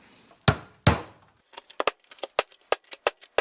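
Sharp metallic hammer strikes on a punch, driving a part out of a 1978 Corvette's rear end: two heavy blows, then a quicker series of lighter taps in an uneven rhythm, close and loud.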